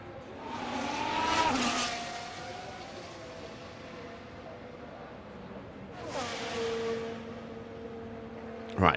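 Formula 1 race cars in the F1 Manager 24 game running a 2026 mod, two loud engine passes with pitch sweeping as they go by, steady engine drone in between.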